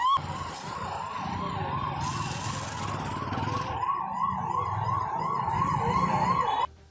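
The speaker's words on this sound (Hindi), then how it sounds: "ये एम्बुलेंस पिछले 10 मिनट से यहाँ पर फंसी हुई है" An ambulance siren wails steadily and loudly nearby, its repeating rising-and-falling tone continuous over crowd and traffic noise while the vehicle sits stuck among a street gathering.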